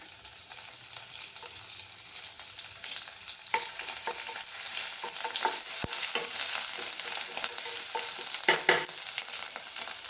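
Cumin, curry leaves and crushed ginger and garlic fry in hot oil in a kadhai, giving a steady, close sizzle with stirring scrapes throughout and no talking.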